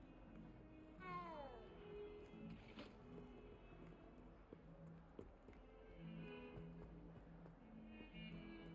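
A cat meows in the video game Hogwarts Legacy, a single rising-and-falling call near the start, with a few softer meows later, set against steady game music and ambience.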